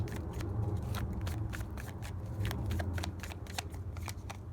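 Tarot cards being shuffled in a steady run of quick papery riffles and flicks, close and clear over a low background hum, with no talking.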